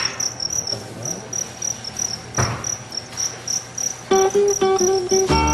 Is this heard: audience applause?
no